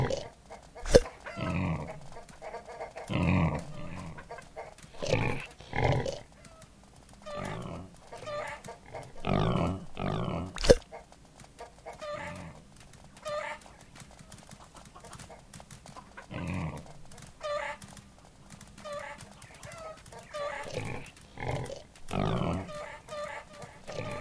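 Pigs oinking in the farm game No Place Like Home, a string of short grunts spread across the clip, moderately close, with other livestock and farmyard sounds mixed in and no talk over them.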